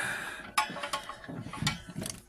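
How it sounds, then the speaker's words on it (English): A bolt on a VW Amarok being threaded in by hand and tightened, giving quiet metallic clicks and ratcheting taps in an uneven run of short bursts, close up with no talk. "and then start threading the bolt in"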